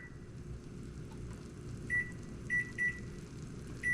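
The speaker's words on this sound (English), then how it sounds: "I'm going to set a timer" A few short, high electronic beeps sound at uneven intervals over a quiet, low background hum.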